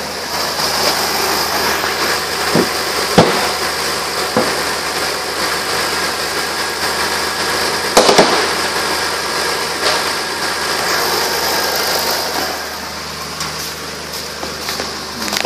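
A 2009 Dodge Nitro SE idles steadily nearby, a constant mid-pitched engine hum with a few light clicks and knocks over it.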